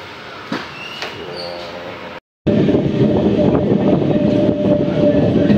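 A passenger train runs into Channarayapatna railway station, heard from on board as a steady, loud rumble and rattle of the carriages, with a brief gap of silence partway through.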